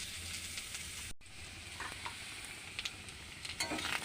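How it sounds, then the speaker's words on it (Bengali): Potatoes frying in oil in a wok, a steady close sizzle with occasional stirring scrapes and taps, no voices. "আলুগুলো একটু ভেজে নেব।"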